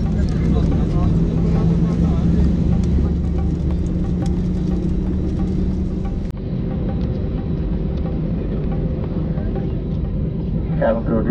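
Inside the cabin of an IndiGo Airbus A320-200 before takeoff from Chennai, the engines make a steady loud rumble and hum throughout, with a faint cabin announcement voice under the drone.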